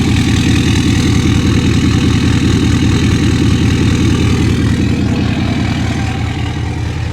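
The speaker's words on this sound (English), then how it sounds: "Let's go back and listen to the exhaust real quick." An older work truck with a diesel emissions system sits idling, its exhaust giving a steady, loud, low rumble that stays constant throughout with no talking.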